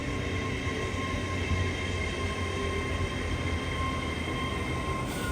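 An LNER train passing through Peterborough station on the East Coast Main Line, a steady loud rolling rumble with a faint high whine, sustained and close with no talk.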